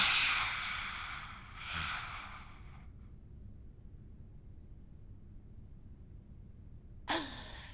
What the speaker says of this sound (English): exhaling out of your mouth, tongue out, eyes back, face toned